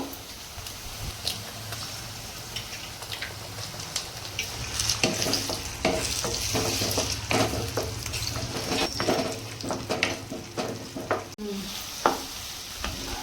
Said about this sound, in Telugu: ఇప్పుడైతే మనం ఎగ్ కొట్టేద్దాం దీంట్లో.